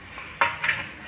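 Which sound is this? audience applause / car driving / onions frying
onions frying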